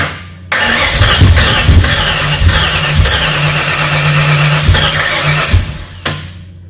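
A rebuilt Ford 302 Cleveland V8 cranks loudly and steadily for several seconds with a rhythmic starter churn but never catches, stopping abruptly after about six seconds; no one speaks over it.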